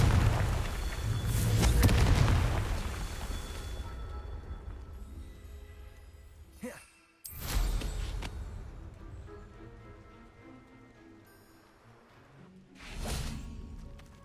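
A fire-blast Confringo spell explodes in Hogwarts Legacy: heavy booming bursts with whooshing tails, one big blast at the start, another sharp one midway and a third near the end, loud and close over a low rumbling game backdrop.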